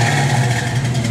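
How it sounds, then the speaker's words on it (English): A 1969 AMC AMX engine runs loud and close, a steady low throbbing rumble heard alone in a short burst. "Good rev, Jordy."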